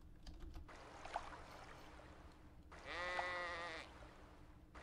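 A sheep bleats twice in the survival video game Unreal World, a short bleat followed by a longer wavering one, faint over a steady low background hum with soft clicks like keyboard typing.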